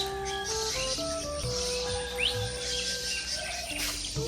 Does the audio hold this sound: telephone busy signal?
no